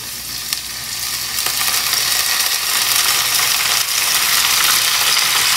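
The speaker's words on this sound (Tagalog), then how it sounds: "ito na yung ating marinated beef. Ilalagay na natin sa ating kawali." Marinated beef frying in a pan for garlic pepper beef, giving a loud, steady sizzle that builds and stays dense throughout, close-up, with no talking.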